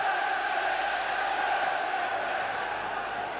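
Football stadium crowd at a 1996-97 Champions League match between Manchester United and Fenerbahçe, a steady, broad roar swelling as the home side attacks, continuous and moderately loud with no distinct voices.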